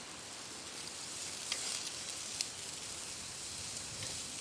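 Chops sizzle on a LifeDoo Urod portable fire pit outdoors, a steady close hiss of frying fat with a couple of small pops and no voices.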